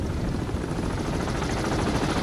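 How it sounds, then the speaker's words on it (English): A steady, low rotor-like rumble of a helicopter in the submarine video game Cold Waters fills the whole stretch, constant and fairly loud with no talking over it. "there's helicopters out here"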